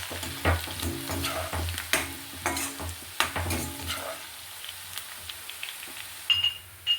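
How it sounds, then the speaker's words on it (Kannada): Crushed garlic and spices fry in oil as the tempering for a star gooseberry pickle, with loud stirring scrapes over a crackling sizzle that thins out and quiets toward the end. "ಇದೆಲ್ಲ ಸ್ವಲ್ಪ ಫ್ರೈ ಆಗಲಿ ಎಣ್ಣೆಯಲ್ಲಿ"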